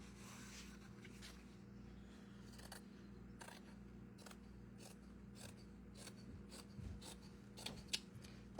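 Scissors snip through lampshade material in a slow, quiet run of separate cuts over a low background hum.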